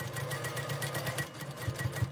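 A sewing machine stitches across the tip of a quilt block, its needle running in a fast, even rhythmic chatter that is close but quiet and heard alone.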